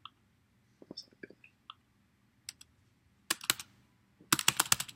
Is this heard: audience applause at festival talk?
no